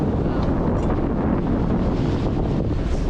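Wind and breaking waves wash steadily over the deck of a sailboat on a single tack through sizeable summer ocean swells, a loud, continuous rushing roar close to the microphone with no talking.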